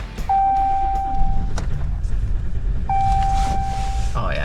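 A Ram 1500 pickup with the 3-liter EcoDiesel V6 cranks and fires, then settles into a low, steady diesel idle that is close and continuous throughout.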